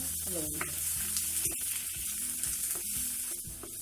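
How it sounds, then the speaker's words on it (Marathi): Pounded coconut paste fries in oil with a continuous soft sizzle and occasional stirring scrapes, close and steady, with faint background hum. "तेलात व्यवस्थित हे भाजून घ्यायचं आता खोबऱ्याला कसं तेल सुटतंय बघा"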